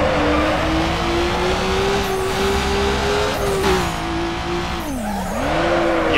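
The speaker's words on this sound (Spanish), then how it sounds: "Ahora el turbo entra súper rápido." A turbocharged car engine in the Need for Speed Underground 2 video game accelerates with a loud, continuous droning whine. The pitch climbs, dips sharply near the end, then rises again, with hints of tire squeal.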